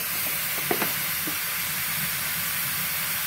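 An Instant Pot vents built-up pressure in a loud, steady hiss that runs unbroken throughout, with a few faint knocks early on.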